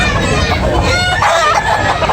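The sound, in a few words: rooster (gamecock) crowing at market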